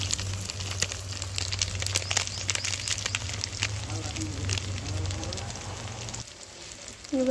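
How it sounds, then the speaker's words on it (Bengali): Spices, including chili powder, turmeric, coriander powder and salt, sizzle and crackle steadily in hot oil in a pan while being sautéed for raw banana kofta, with a voice speaking over the frying. "ভালো করে মশলাটাকে কষিয়ে নেব"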